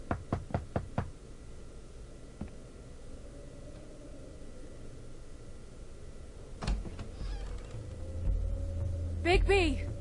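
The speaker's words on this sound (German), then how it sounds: "Hör auf zu klopfen." Knocking on a door in the video game The Wolf Among Us: a quick run of sharp raps at the start, then a later thud and clatter, while someone speaks over the game audio.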